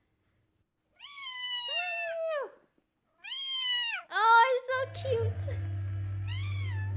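A cat meows in several drawn-out, rising and falling calls, close and clear, with a person speaking over the later part and a low hum underneath.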